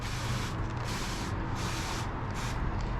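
Broad hissing bursts from a spray bottle of car cleaner, several quick sprays in a row over a steady noisy background.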